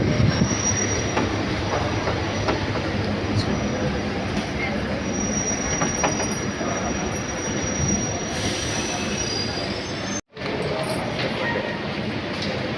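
A suburban electric train on the Velachery to St. Thomas Mount line rumbles steadily with rail noise and wheel squeal throughout, heard from on board, and a brief dropout cuts in near the end.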